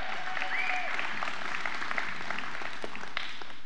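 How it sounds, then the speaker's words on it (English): An audience at a cowboy church claps steadily in a dense, even wash of applause that holds at the same level for a few seconds, with no voice over it. "Hey, y'all give Dad and Joni another round of applause."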